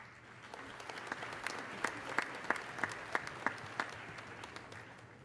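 Applause for graduates at a university commencement ceremony: a steady wash of clapping from a large, distant crowd, with a few sharper nearby claps standing out in a regular beat.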